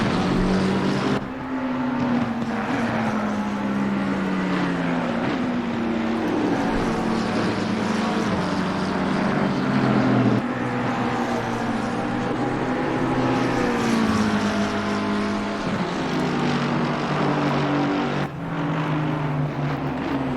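A McLaren GT race car, the white number 26, in the racing game Assetto Corsa Competizione at Circuit Zandvoort, its engine droning loud and continuous with rising and falling revs through gear changes.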